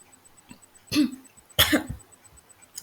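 Two sharp coughs, close and fairly loud, break a quiet background, the second harsher than the first.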